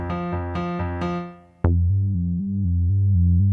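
Roland Fantom synth tone stepping between two pitches an octave apart under an eighth-note step LFO, a steady loud repeating up-down jump with a brief gap near the middle, no talking.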